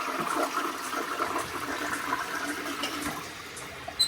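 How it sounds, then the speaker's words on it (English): A toilet holding dirty tortoise water is flushed in a tortoise room, giving a loud, steady rush of water that runs for about four seconds with no talking. "this is, as you can see, a toilet, which has nasty, poopy tortoise water in it. Let's get rid of that."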